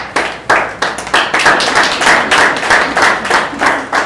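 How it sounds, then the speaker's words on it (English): Studio audience on a quiz show final claps in a loud, fairly small burst of hand claps that swells in waves for a few seconds, with no talking over it. "Huge round of applause."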